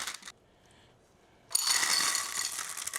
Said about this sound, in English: Get some pie weights and put them in there.